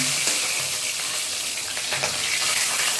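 Katla fish frying in hot oil just after being flipped, a loud, continuous close sizzle with light spatter and a few stirring knocks.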